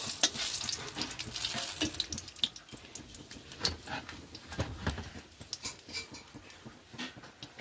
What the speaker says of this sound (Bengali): আমি দিয়ে দেব আগে থেকে কেটে রাখা তেজপাতা এবং শুকনো লঙ্কাটা। ভালো করে ভেজে নেব।